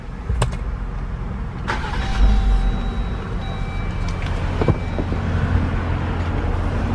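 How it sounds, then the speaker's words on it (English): A 2018 Jeep Wrangler Rubicon cranks and fires up with a short loud burst near the start, then settles into a steady, close idle, with a few clicks and faint electronic chimes over it. "So let's go ahead and start it up real quick."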